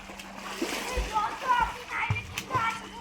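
A young child splashing in water while learning to swim, irregular splashes and sloshing up close, mixed with children's voices and adults talking and cheering.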